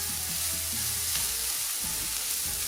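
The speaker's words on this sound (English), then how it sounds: "So I'm going to go ahead and saute down these vegetables" Vegetables sizzle steadily in a non-stick pan with a constant, close frying hiss and occasional soft stirring scrapes, no voices.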